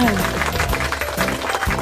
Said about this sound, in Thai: เด็กๆเก่งมากปรบมือให้ตัวเองด้วยค่ะ